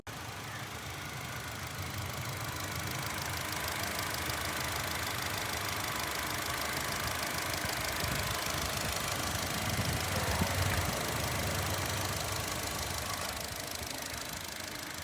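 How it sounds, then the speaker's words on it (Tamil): A 2015 Honda Jazz 1.2L i-VTEC petrol engine idles steadily up close, a continuous mechanical hum with faint rhythmic knocking, no voices. "காரோட இன்ஜின் ரூம் அண்ட் இன்ஜினோட சவுண்ட்லாம் காமிக்கிறேன் லைவாக கேட்டு பாருங்கள்"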